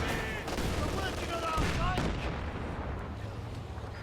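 Walking Stuka rocket artillery barrage in Company of Heroes 2: a rumbling sequence of rocket launches and heavy explosions layered with gunfire, loud and continuous, with someone commentating over the battle.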